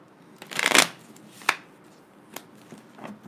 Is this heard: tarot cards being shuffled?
yes